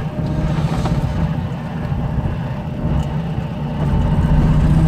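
A classic Fiat 500 microcar engine runs steadily while driving around the block, a loud, continuous low drone with a slight rise in level toward the end.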